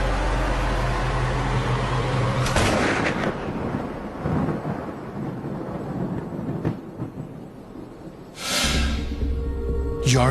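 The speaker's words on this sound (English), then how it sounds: "Personnel clear the firing range, and Michael Yardley takes Lee Harvey Oswald's shot" A rifle fired on an outdoor firing range to recreate the shot at a target car on Elm Street gives sharp, loud blasts with rumbling echo over a constant roar of wind and background noise, and no one speaks.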